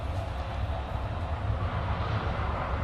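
Military aircraft engines from an aerobatic display team taking off, a continuous loud roaring rumble with a broad hiss and no pauses or talk.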